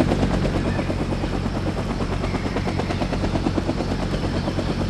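Helicopter heard up close with a loud, continuous rhythmic rotor thump and engine whine, steady throughout with no voices, in a Vietnam-era war game setting.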